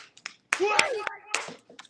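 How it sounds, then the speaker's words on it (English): A few sharp hand claps, close and brief, mixed with a voice talking over them. "Give a clap for the card, man."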